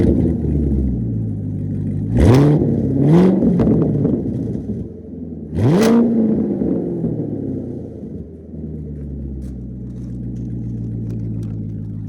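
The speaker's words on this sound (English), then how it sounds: "because this has a custom exhaust to it" A 2014 Chevrolet Corvette Z51 with a custom exhaust idles with a deep rumble, then revs sharply twice in quick succession, falls back, and gives one more loud rev before settling to idle, all close up.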